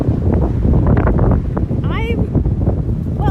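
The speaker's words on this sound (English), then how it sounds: "it's very windy over here" Loud wind buffeting the microphone in heavy, continuous gusts, with a voice briefly audible underneath.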